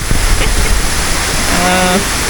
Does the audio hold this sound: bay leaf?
no